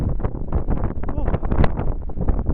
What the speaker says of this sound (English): Oh, it's windy up here, isn't it?